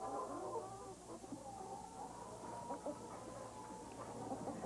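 Hens cluck in a crowded coop, a faint, distant murmur of scattered clucks over a low, steady hum.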